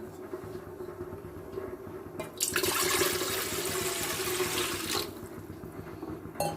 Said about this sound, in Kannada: ನೋಡಿರಿ ನೀರು ಹಾಕಿನಿ